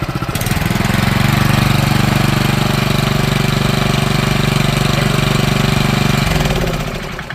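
A Hangkai 6HP four-stroke outboard motor idles steadily and loudly up close, a continuous low throbbing drone that holds even for several seconds before easing off near the end.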